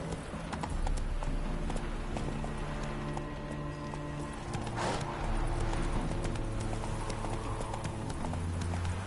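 A ridden horse's hooves clip-clop in a steady rhythm close by, running continuously and loud, with music-like tonal sounds layered over them.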